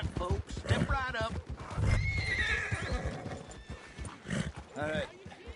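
A horse in the Western game Red Dead Redemption 2 gives several whinnying neighs over clip-clopping hooves, with game characters talking throughout.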